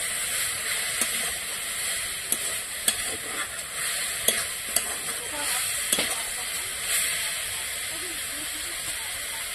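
Radish greens with prawns fry in a pan over a wood-fired clay stove, giving a steady close sizzle and hiss with occasional sharp clicks and scrapes as the food is stirred.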